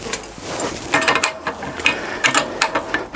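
A ratchet clicks rapidly in short irregular bursts while fastening screws during a metal attic-stair installation in drywall, close and fairly loud.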